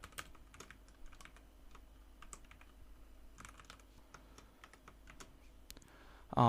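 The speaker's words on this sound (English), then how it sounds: "Let's type out the code that we tried out on our Chrome console" Someone types code on a computer keyboard in a quiet room, with a run of irregular, fairly soft key clicks and small pauses, and a louder clatter right at the end.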